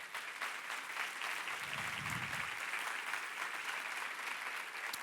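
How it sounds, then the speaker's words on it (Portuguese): A church congregation applauds the name of Jesus during a sermon, a continuous wash of many hands clapping that sounds faint and distant as it holds evenly throughout, with no voice over it. "Você pode aplaudir o nome do Senhor Jesus?"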